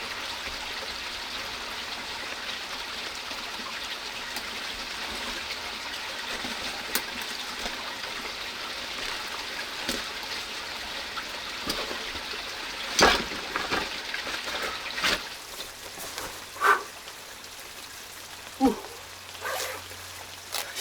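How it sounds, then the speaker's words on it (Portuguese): Steady rain hisses outside a rock shelter, a dense and even wash of falling drops, with occasional louder nearby drips and thuds standing out over the constant patter. "Estamos abrigados da chuva."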